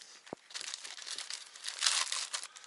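A knife slices into tight plastic packaging around a discounted online-order item, giving close crinkling, rustling and tearing with a sharp tap near the start, and no voices.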